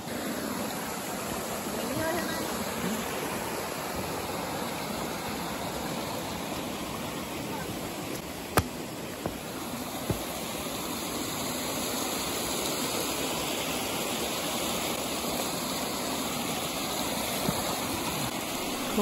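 A waterfall near Barranco Blanco by the Caminito del Rey gorge trail in Spain gives a steady, broadband rush of falling water that runs unbroken throughout, fairly close and even in level.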